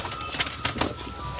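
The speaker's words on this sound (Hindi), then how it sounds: "बड़ा अच्छा कबूतर है ये जो दिखा रहे हैं इस वक्त" Taddy pigeons in a loft, with soft cooing and a few quick bursts of wing flapping close by, brief and fairly faint against a light background hum.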